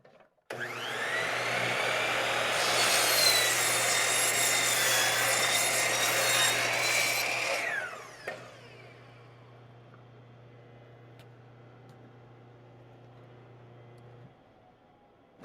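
Power saw cutting through wood, a loud steady rising whine for about eight seconds before dropping to a low motor hum as the blade winds down, with no talking.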